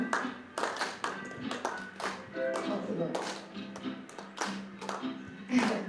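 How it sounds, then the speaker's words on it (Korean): An audience at a live performance of an upbeat song claps along in a steady beat, the claps landing at regular intervals. A voice briefly speaks over the clapping. "약간 신나는 거라 이렇게 박수 같이 쳐주시면 좋겠어요"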